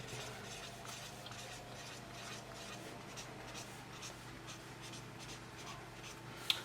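Felt-tip marker drawing a table on lined paper, a steady close scratchy squeak of strokes running throughout with short pauses between lines and one sharp tap near the end.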